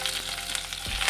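Green chillies dropped into hot oil with mustard seeds produce a dense, close burst of sizzling and crackling for about a second, with no talking.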